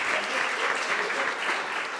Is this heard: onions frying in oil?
no